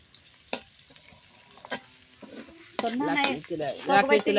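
Taro greens frying in a pan on a village cooking stove, with stirring clatter and sizzle at first, then close voices talking over the cooking through the second half.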